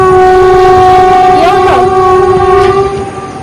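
A train on the Karjat line near Matheran rumbles past loudly and close, its horn sounding a sustained blast that briefly bends in pitch before the roar fades at the end.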